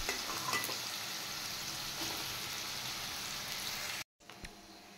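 Cumin seeds, bay leaves and whole garam masala frying in hot oil for chira pulao give a steady, close sizzle with light stirring, then a sudden brief cutoff near the end before the sizzle resumes faintly.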